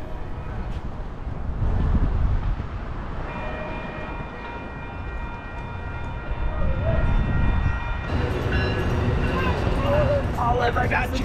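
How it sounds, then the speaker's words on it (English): A big train rolls past near a science museum in Santa Barbara, a heavy, steady rumble of railcars with wind buffeting the microphone and a brighter squeal and rattle building toward the end. "I got the train going by"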